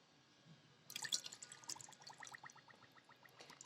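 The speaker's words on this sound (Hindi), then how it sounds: "थोड़ा हमें इसमें आधी कटोरी पानी को भी ऐड करेंगे" Water is poured in a faint, close trickle of splashes and drips into a bowl of appam batter mixed with curd, and it goes on for a few seconds.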